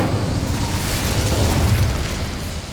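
An Incendio fire spell blast in Hogwarts Legacy: a loud, sustained roaring whoosh of flame with a heavy low rumble, alone and close, holding steady for a few seconds before easing slightly.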